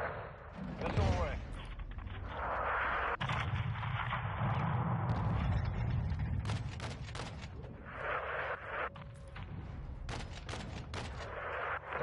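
An AC-130 gunship fires a missile in the video game Modern Warfare 2, a loud whooshing roar and heavy blasts, with rapid gunfire bursts and radio chatter over the noise.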